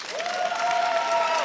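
Audience at the Crufts dog show applauding a five-year-old bull terrier in the terrier group ring, a dense, steady wash of clapping from a large crowd with a tonal whistle-like line running through it.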